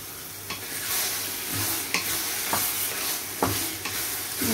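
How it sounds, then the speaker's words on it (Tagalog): Beef and tomato sauté in a pan with a steady close sizzle, broken by several sharp scrapes of stirring at roughly regular intervals. "mga 5 minutes na nagisa na dito sa kamatis"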